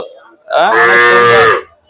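A calf at a Sunday cattle market in Chandimora bazaar, Barura, lets out a single loud, drawn-out moo of about a second, close by, with a quiet lead-in and no talk.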